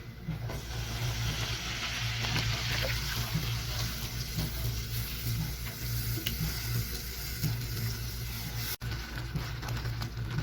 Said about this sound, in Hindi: अब इसके अंदर ये दूध डालती हूँ और ये इसको क्रीम बना लेते हैं